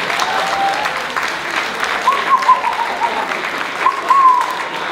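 Steady applause from a comedy show audience, a continuous wash of clapping with a few brief whistles rising above it.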